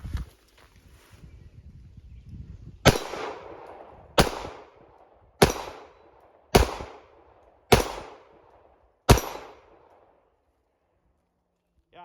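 Six sharp pistol shots from a Stoeger STR9-C ring out one at a time, roughly a second apart, each loud crack trailing off in a short echo, after some quiet handling noise.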